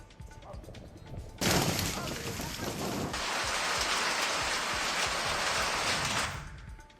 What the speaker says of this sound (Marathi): धाराशिवच्या उमरगा परिसरामध्ये गारांचा पाऊस पडला असल्याचं बघायला मिळतंय.